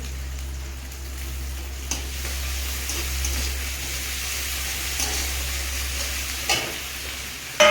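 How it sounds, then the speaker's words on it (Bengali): Onion frying in a pan gives a steady, moderate sizzle close by. A few sharp clinks of stirring come through over a low background hum. "পেঁয়াজটা একটু ভেজে নেবো।"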